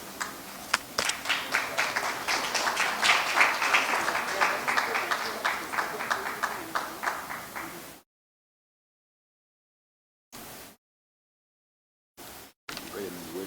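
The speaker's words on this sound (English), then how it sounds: "Please give applause to architect James Kimathi." An audience at the launch of the Mt Kenya Mountain Run applauds a marathon runner, a lively burst of many hands clapping for several seconds before cutting off abruptly, followed by silence with brief fragments of sound.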